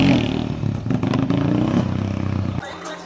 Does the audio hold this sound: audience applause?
no